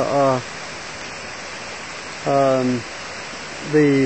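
Water from a dam's floodgates rushes loud and steady in the river below, a constant broadband roar broken by short bursts of talking.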